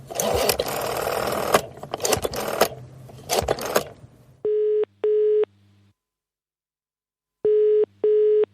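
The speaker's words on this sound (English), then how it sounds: "Why does it sound like I'm using a phone in the UK?" A UK-style telephone ring tone plays two double-burst rings separated by silence, clear and electronic, following a noisy stretch of mechanical rattling at the start.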